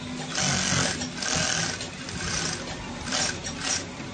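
A sewing machine stitches danshiki fabric with a close, steady mechanical whirr that comes in several short bursts as the seam is sewn down.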